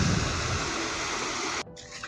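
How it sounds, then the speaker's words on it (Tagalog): Water flows steadily along a forest trail in the Sierra Madre mountains near Disupi Falls in the City of Ilagan, a broad rushing wash that cuts off abruptly, leaving faint ambient sound. "tanging lagaslas ng tubig at kunin ng mga ibon ang sumasabay sa paglalakbay"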